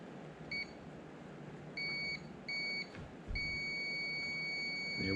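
Beeps from a Tacklife digital multimeter on its continuity test, sounding in short repeated tones and then one long sustained tone over a steady low background hum.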